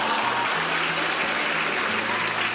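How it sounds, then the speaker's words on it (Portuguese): Steady applause from a small audience in a theatre class, dense even clapping close by throughout. "Uma salva de palmas, por favor."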